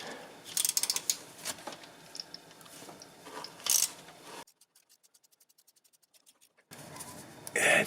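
A ratchet undoing a 30mm bolt on a pipe clamp of an AL4/DP0 gearbox: scraping and knocking at first, then a run of even, quick ratchet clicks, then more clanking work noise.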